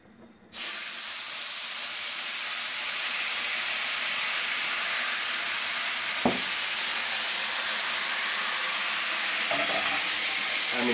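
White wine poured into a hot pan with butter and seared scallops, hissing into a loud, steady sizzle that holds for several seconds, broken by one or two faint clinks.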